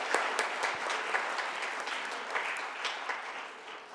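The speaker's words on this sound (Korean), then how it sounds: "여러분께서 힘차게 박수로 맞아주시기 바랍니다." A congregation at a Christmas church service claps in a steady, even round of applause that holds for a few seconds and eases slightly at the end, heard from across the sanctuary.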